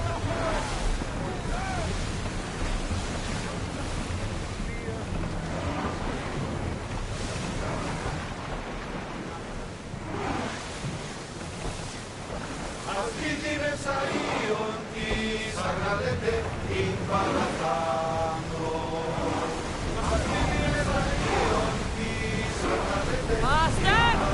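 A ship sailing on ocean waves in a video game, with a steady wash of surf and wind over a low rumble under game music, and a voice speaking partway through.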